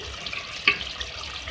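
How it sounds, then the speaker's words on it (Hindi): Water heating in a pot for chicken salan simmers with a faint, steady bubbling hiss, broken by one brief sharp click midway, with no talking. "जो हमारा जो पानी इसमें बॉयल सा आ रहा है"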